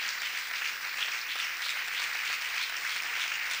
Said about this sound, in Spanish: Le damos un aplauso a Marta